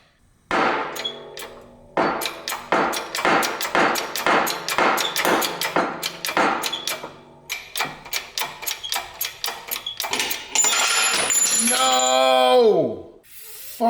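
A metal brake rotor hits the ground with a burst of sharp clattering knocks, then a loud ringing metallic tone that fades away, heard close in a workshop with a voice nearby.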